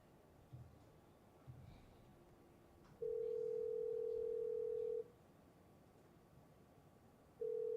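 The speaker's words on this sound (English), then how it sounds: "At the tone, please record your message." A voicemail recording beep on a phone call sounds as a steady, loud electronic tone lasting about two seconds, then drops away before a second tone starts at the very end, with faint line noise in between.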